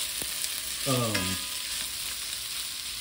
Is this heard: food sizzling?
yes